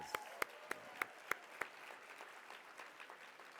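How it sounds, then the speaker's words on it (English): A luncheon audience at an awards event claps in a few sharp, distinct hand claps at first, then the applause softens into faint, distant clapping. "Let's give them another round of applause."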